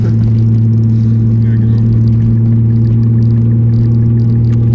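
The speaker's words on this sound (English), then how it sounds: "Spinning snow tires." A Mazda 6 with a newly installed rear motor mount spins its snow tires, the engine holding a loud, steady, droning rev close by with a deep hum throughout.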